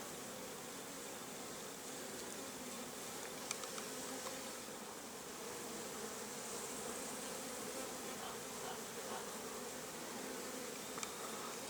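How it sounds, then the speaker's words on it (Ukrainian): Hornets swarm around a well-developed nest in a log hive, producing a dense, continuous, fairly faint buzzing drone with occasional louder passes of single insects close by. "Ось гніздо шершнів, воно достатньо розвинуте. Робочих особин багато"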